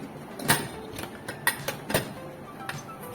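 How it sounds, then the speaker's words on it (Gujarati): Pressure cooker lid being closed over dal, giving a few sharp metallic clicks and clanks spread irregularly, close and moderately loud, with no voices. "હવે ઢાંકણ બંધ કરી લઈએ"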